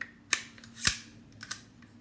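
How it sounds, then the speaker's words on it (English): Rifle bolt pulled to the rear and locked: a few crisp metallic clicks and snaps, one sharper clack in the middle, close and quiet with no talking. "pull the bolt to the rear,"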